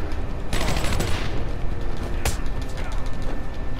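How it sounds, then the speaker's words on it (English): Gunfire from an armed thug in Batman: Arkham Asylum, several sharp loud shots and bursts over game background noise, with a voice speaking over the action. "Oh, he's got a gun!"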